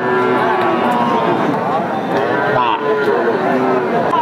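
Cattle low repeatedly at a busy livestock market where bony, lean cows are sold for fattening, the moos loud and close over a dense crowd murmur, with people talking throughout.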